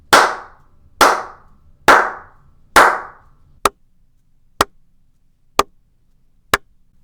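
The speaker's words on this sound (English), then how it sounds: "a little clap test to let you hear the difference between an untreated space and a treated space" Eight single hand claps spaced about a second apart: the first four ring out with a short room decay, the last four are dry, clipped snaps in an acoustically treated closet, recorded on an sE Electronics X1 A microphone.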